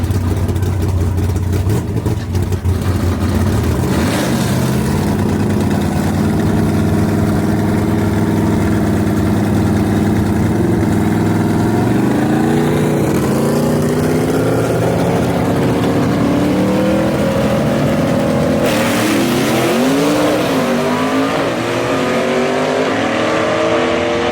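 A Pontiac Chieftain gasser drag car at Knoxville Dragway idles with a loud, lumpy engine burble. It then revs hard and launches, and the pitch rises in sweeping surges as it pulls away. The engine is loud and close throughout.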